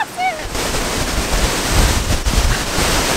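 A large waterfall roars steadily in cold, snowy weather in Australia, its loud broadband rush mixed with wind buffeting the microphone, and a brief high vocal sound comes right at the start.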